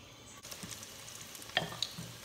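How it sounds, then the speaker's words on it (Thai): Crab and shrimp fry in hot oil, a soft, steady sizzle with a few small pops and crackles, heard fairly faintly. "พี่น้องเฮาก็มาเริ่มทอดกันเลยเนาะ"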